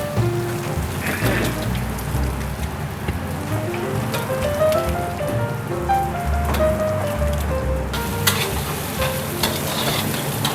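Oil and garlic sizzle hard in a pan for a large batch of Singapore-style fried rice, a loud, continuous crackling hiss broken by scraping stirs of the spatula.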